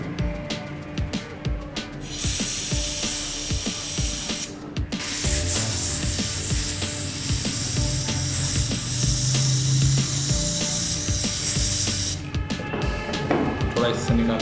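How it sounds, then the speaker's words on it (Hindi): Cleaner sprayed into the charging port of a switched-off iPhone, a long continuous hiss that runs close and steady for most of the clip, with shorter bursts and handling rubs at the start and end. "अब मारेंगे स्प्रे।"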